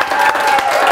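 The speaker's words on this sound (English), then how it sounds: "So give them a big applause." An award show audience at a social campaigning school applauds, a loud, dense burst of many hands clapping with a few cheers mixed in, continuous and close for the whole second.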